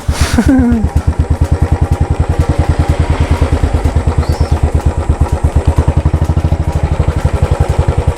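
Close, loud motorcycle engine on a forest ride through Muthanga, Bandipur and Mudumalai, a rapid even thumping beat running throughout after a brief rising whine at the start, with no speech.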